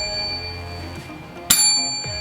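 A single bright bell ding rings out sharply and rings on briefly over a faint steady background, followed by a soft tail.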